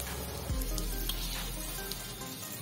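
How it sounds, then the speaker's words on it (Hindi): Vegetable spring rolls deep-fry in a kadhai of hot oil, with a steady, dense sizzle and crackle up close that carries on without a break and has no talking over it. "जितने एक बार में कढ़ाई में आएंगे उतने ही रोल को हमें डालकर फ्राई करना है।"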